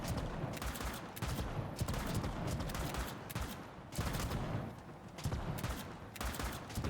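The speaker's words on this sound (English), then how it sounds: "Somebody seems to have like a space shotgun or something." Rapid bursts of heavy sci-fi gunfire from a space shotgun in a shooter video game, dense overlapping blasts firing repeatedly and loudly throughout with no voices over them.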